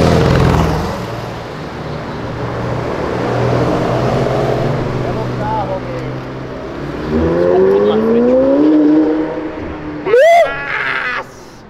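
A McLaren sports car revs on Avenida Europa, its engine note climbing in loud rising sweeps near the end, with traffic rumble beforehand and excited voices talking over it.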